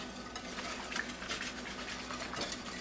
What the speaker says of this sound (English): Keep stirring that.